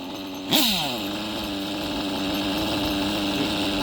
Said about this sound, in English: Almost making like a pinging noise. Is it detonating?